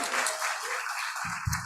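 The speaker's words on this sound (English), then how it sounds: "can you give a round of applause?" Applause from an audience at a climate movement event, a brief dense wash of clapping heard at steady volume with no voices over it.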